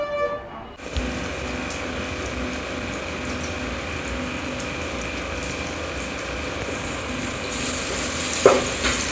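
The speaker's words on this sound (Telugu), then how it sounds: "ఇక్కడ చికెన్ కర్రీ కోసం అయితే ఆనియన్స్ ఇంకా పచ్చిమిర్చి వేసి అయితే ఫ్రై చేస్తున్నాము" Onions and green chillies fry for chicken curry at a wedding-style home gathering, a steady moderate sizzle running throughout with faint stirring and background hum, no talking over it.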